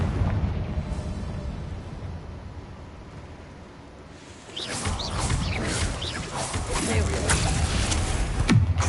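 A Confringo spell explosion in a video game, a quiet stretch breaking into a loud rumbling blast with crackling debris that keeps roaring to the end.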